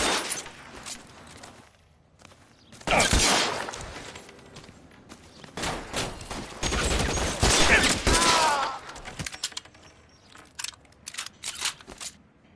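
A shootout in L.A. Noire, with bursts of gunfire and crackling impacts in uneven clusters that swell to a loud sustained stretch midway, then thin out into scattered shots and rustling movement.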